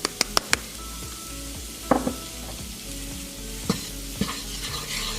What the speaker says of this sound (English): Get it all mixed in. And then the last bit of flour.